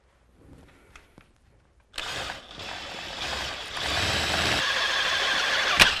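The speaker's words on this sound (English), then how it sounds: "we got our first one drilled, and then we'll go over here and start on our second one" A power drill bores a second pilot hole during a standard alternator install, starting after a quiet moment and running steadily and loudly with a rising grind, alone with no talk.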